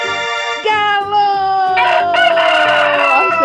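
A rooster crows a single long, loud cock-a-doodle-doo, close and clear, with no other sounds around it.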